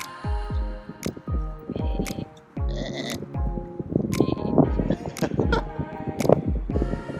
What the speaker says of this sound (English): right behind me, you can actually see tons of sheep here